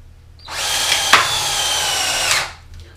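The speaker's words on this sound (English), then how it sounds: "does the old battery technology, NiCad battery, hold up and drive a screw as fast as these ones?" An old DeWalt cordless drill with a NiCad battery drives a screw into wood in one steady whirring run of about two seconds, loud and close, with a brief crack partway through.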